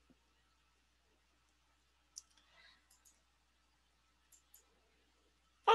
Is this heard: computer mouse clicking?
yes